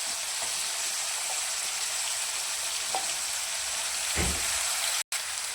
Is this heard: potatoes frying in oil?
yes